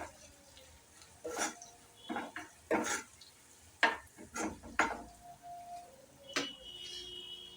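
Small prawns being stirred with turmeric in a pan for chitti royyala fry: scattered scraping and clinking strokes of a spoon against the pan, close but fairly quiet, over a faint sizzle.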